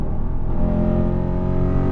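Lexus RC F fitted with a GTHAUS exhaust at full throttle after a downshift, a loud, deep, continuous engine roar that holds steady and close throughout.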